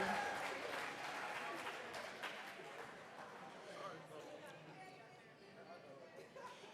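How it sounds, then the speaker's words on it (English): Applause from a banquet audience honouring Garfield Scott at the 2024 Blue South Banquet: a broad, diffuse spatter of many hands clapping, fading slightly toward the end, with faint voices mixed in. "A round of applause for Garfield Scott"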